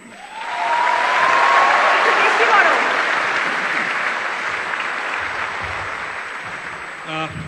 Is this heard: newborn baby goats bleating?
no